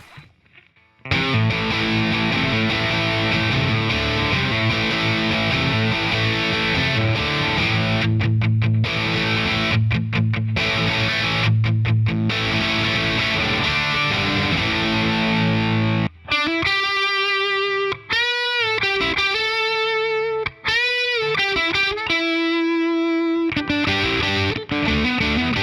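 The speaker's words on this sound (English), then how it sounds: "Let's add some distortion." Distorted electric guitar through an amp with effects, a sustained crunchy passage of chords and notes, then a second stretch of choppier riffs with short gaps, loud and alone.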